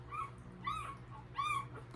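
Puppies whimper in three thin, high-pitched whines spaced evenly over two seconds, close and soft over a low background hum.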